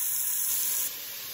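Onion tossed into a hot pan where meat has just been seared, a loud, close, continuous hissing sizzle that eases slightly after the first moment, with no talk.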